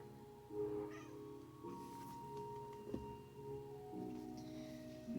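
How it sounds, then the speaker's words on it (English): A house cat meows a few times, faint and close, as it jumps up onto a lap indoors, with a low steady hum underneath. "Sorry, cat jumping up on my lap."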